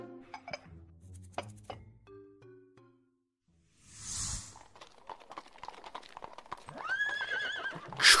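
Horse-drawn carriage arriving and stopping outside a residence, with clip-clopping hooves, a horse neighing and clinking harness sounds, close and fairly clear, ending in a loud whinny.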